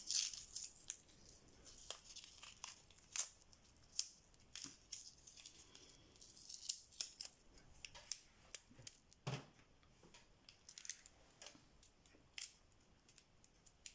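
Sharp crackling rips and crinkles of painter's masking tape being torn and handled, several short bursts scattered over a quiet background, close by.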